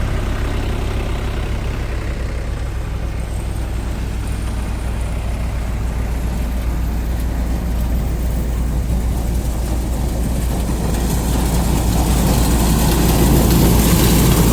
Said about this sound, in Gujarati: RPM ઉપર આપણું ટ્રેક્ટર ચાલુ છે.